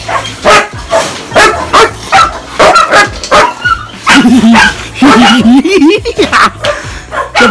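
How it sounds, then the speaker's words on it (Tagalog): A puppy barks and yips in quick, loud, close bursts with some whimpering squeals, while people talk around it at a family gathering. "Tuta"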